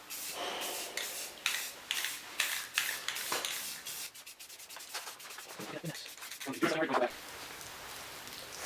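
Rust-Oleum Brown spray paint is applied to an M249 in rhythmic hissing bursts, close and fairly loud, with short pauses between passes and a final longer continuous spray.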